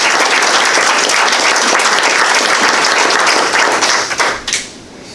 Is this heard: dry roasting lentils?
no